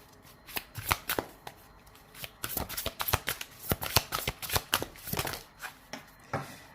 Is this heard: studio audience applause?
no